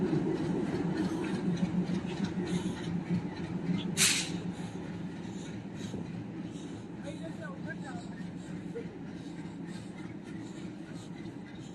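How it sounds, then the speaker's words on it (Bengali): A freight train loaded with stone rumbles onto the Nasipur rail bridge, a steady loud rolling drone with faint wheel clatter and a brief sharp burst near the start. "নসিপুর রেল ব্রিজের ভেতরে এই মুহূর্তে পাথর ভর্তি গাড়ি একদমই নসিপুর রেল ব্রিজের ভেতরে প্রবেশ করলো।"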